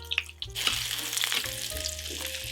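Flounder tail frying in butter in a tilted wok, a steady close sizzle that swells after a quiet start, with low clunks of the pan shifting underneath and no talk.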